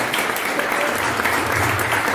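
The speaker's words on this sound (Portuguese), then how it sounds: "isso merece uma salva de palmas" A church congregation applauds, a dense, loud wash of clapping that carries steadily through the moment with no break.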